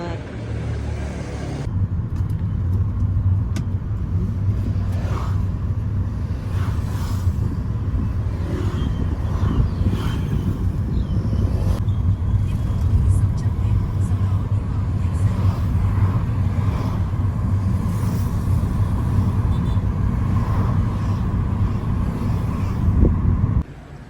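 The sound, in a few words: bus and traffic on road in Dalat, Vietnam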